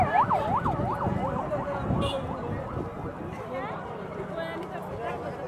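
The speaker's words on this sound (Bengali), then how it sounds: "দেখতে পাচ্ছেন যে এখন পর্যন্ত একটার পর একটা কিন্তু অ্যাম্বুলেন্স ছুটে যাচ্ছে।" Ambulance sirens wail along a busy street after a training plane crash in Uttara, the rising and falling tone sweeping past with a nearby voice speaking over the traffic noise.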